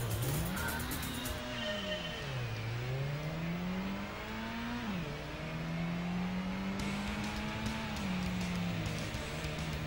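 In the PS1 Gran Turismo, a car engine revs in manual, the pitch climbing and dropping through several gear changes on a small circuit, steady and close with no talk.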